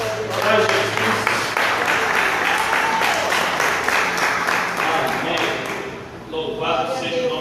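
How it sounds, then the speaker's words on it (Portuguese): A church congregation claps together for Jesus as they take their seats, a dense sustained round of applause with a voice speaking over it, dipping briefly near the end before swelling again. "E a igreja pode se assentar dando uma linda salva de palmas para Jesus."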